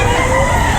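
A rooster crows loudly and close by at a weekend chicken market in Lipa, Batangas, a single brief call over a busy background.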